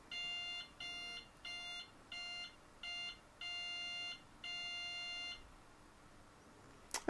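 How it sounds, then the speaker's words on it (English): Mocreo M5-Lite temperature monitor sounding its alarm: a series of loud electronic beep bursts, short at first and then longer, that stops and is followed by quiet and a brief click. "Okay, and I've disabled the alarm."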